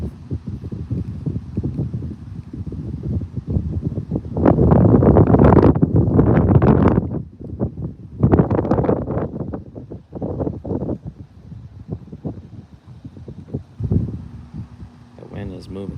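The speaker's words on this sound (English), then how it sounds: "the wind is moving today" Gusty wind buffets the microphone outdoors on the water during bass fishing, loud, rumbling surges rising and falling steadily throughout.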